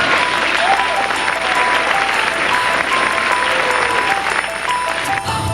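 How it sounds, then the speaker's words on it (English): A high school audience gives loud, dense applause for the school's finalists, a steady wash of clapping with a few whistles on top that breaks off abruptly near the end. "Let's have a round of applause."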